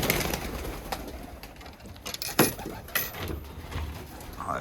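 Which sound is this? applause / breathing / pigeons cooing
pigeons cooing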